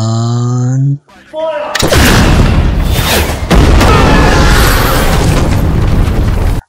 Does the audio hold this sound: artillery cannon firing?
yes